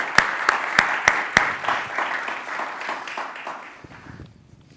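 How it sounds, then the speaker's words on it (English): A burst of audience applause at a conference session, with a few sharp claps at the start, fading out over a few seconds in a large room. "Let's extend them a warm welcome and resound round of applause."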